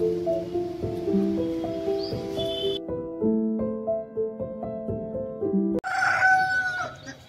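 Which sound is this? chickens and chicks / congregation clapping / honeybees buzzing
chickens and chicks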